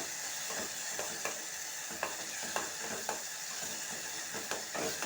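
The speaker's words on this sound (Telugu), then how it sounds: "టమాటాలు వేసాం కదా టమాటాలు మధ్య మధ్య కలుపుకోవడం అన్నమాట అడగంటకుండా" Tomatoes for a capsicum-tomato curry sizzle in a pan while a spoon stirs them, its scrapes and taps coming at a roughly regular pace over the continuous close frying hiss.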